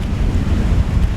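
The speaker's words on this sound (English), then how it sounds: "It's so fucking windy." Strong wind gusting through Chicago, a loud continuous low rumble buffeting the microphone with no other sounds.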